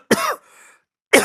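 A man coughs sharply twice with a brief quiet gap between, after taking a sip of a drink, close and loud.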